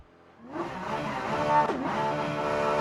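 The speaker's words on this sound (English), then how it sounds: "now let's try out the Porsche and see how that feels" Porsche race car engine in the Rennsport racing game at the Spa circuit, revving up loudly from a quiet start and holding a steady, rising drone with a brief dip as it shifts, close and alone.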